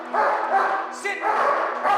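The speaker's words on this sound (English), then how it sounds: "sit there and bark and bark and bark at you" A police dog trained for ball reward barks repeatedly at close range, a few sharp barks in quick succession.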